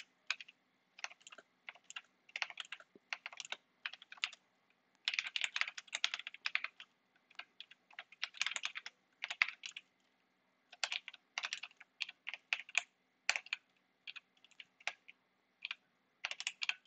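Quiet, close typing on a computer keyboard comes in irregular bursts of rapid key clicks separated by short pauses, with no voices.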